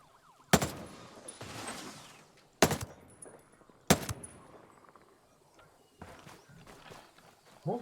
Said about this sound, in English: What gun is this? It's like a semi-automatic DMR.